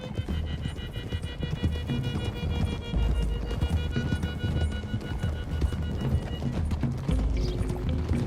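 Several horses gallop together in Red Dead Redemption 2, hooves pounding in a fast, continuous rhythm, with a horse whinnying and background music underneath.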